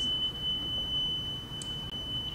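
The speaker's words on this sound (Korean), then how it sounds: "그래서 계속 들고 하시면은 삐 소리가 나요." A safety beep sounds from an exam-style gas stove when the pan is lifted off the burner while meatballs are cooked, a steady high-pitched tone held unbroken under low kitchen background noise.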